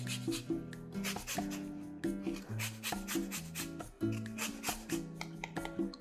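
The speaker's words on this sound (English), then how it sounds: "zest up the lemon" A lemon is rubbed over a zester in quick repeated rasping strokes, close and fairly quiet, with light clinks and taps mixed among the scrapes.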